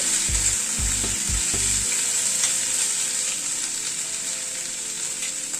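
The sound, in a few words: garlic and green chili paste sizzling while stirred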